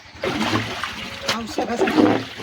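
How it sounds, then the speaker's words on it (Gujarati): A pressure hose driven by a motor sprays water while washing out a buffalo trough, giving irregular splashing and spattering bursts with a person talking alongside. "પાણીની ધાર બોલે"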